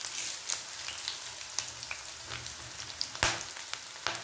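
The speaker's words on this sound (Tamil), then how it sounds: "இப்போ பூண்டு இஞ்சி எல்லாத்தையும் நல்லா வதக்கி கொடுங்க." Garlic and ginger sautéing in hot oil for a green mango pachadi, a steady close crackling sizzle with scattered sharp pops and spatters, no talk.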